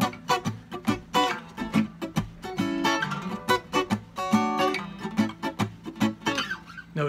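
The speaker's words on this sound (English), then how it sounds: "this is just how I approach the double skank featured in reggae music" Reggae double skank strummed on electric guitar, quick up-and-down chord chops in a steady syncopated rhythm, clean and close with no talking.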